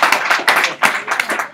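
Hand claps ring out in an irregular run of sharp, close, fairly loud slaps, several within under two seconds, with no talking.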